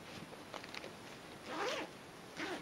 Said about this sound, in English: zip this little sleeper up